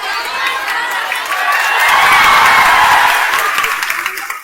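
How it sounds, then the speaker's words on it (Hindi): Indoor audience of students at a coaching class, bursting into applause and cheering that swells to a loud peak mid-clip and tapers off, with crowd noise and voices mixed in. "हंस दिए, ताली बजा दिए।"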